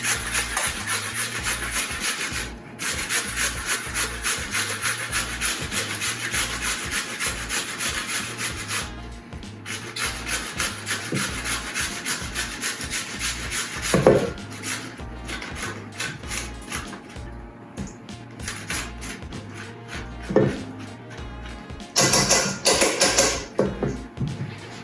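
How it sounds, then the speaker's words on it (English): Quarter of a cucumber grated into a bowl: a steady back-and-forth rasping of the grater in a rhythmic scraping pattern, close and fairly quiet, with a few bumps and knocks near the end. "So I've got a quarter of cucumber here, which I'm going to grate into a bowl."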